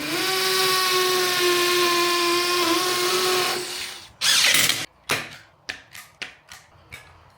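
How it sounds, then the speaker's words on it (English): A power drill whines steadily at high speed while fitting electrical back boxes, then stops, followed by several short bursts and clicks as it is pulsed on and off. "I think now is probably a good time to fit the back boxes with the drill."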